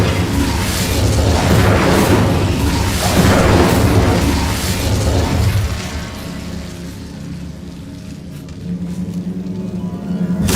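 Incendio fire spells blasting in the Hogwarts Legacy video game, loud booming bursts over a dense rumble for about six seconds, then quieter lingering rumble with a few softer pops.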